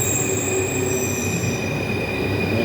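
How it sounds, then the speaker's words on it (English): A metro line 9 train sits in a station, a continuous loud rumble with high, sustained wheel squeal tones ringing above it, close by and with no talk. "This metro 9 I won't enter."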